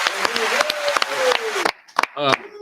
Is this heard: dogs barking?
no